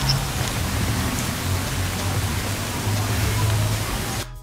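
Steady, heavy rain pours at Wat Pho temple in Bangkok, a loud continuous hiss that cuts off abruptly near the end.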